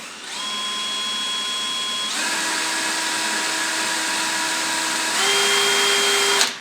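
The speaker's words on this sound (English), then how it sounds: "We're going to use a drill to turn the cable." Electric drill spinning a Land Rover speedometer cable, a steady loud motor whine that shifts pitch twice as the speed changes, running alone without talk before a brief stop.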